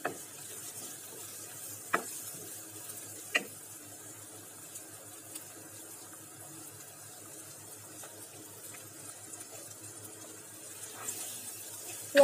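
Chopped onion and garlic fry in a pan with a soft, steady sizzle, broken by a few sharp clicks and scrapes of stirring, with no talking.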